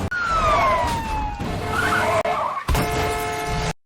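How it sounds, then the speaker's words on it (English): Two anti-narcotics police cars chase a gang of robbers through city streets in a film scene: a loud, wailing siren sweeps over roaring engines and skidding tyres, with abrupt cuts between shots and no voices. "2 police cars from the anti-narcotics unit chase a group of robbers through the city."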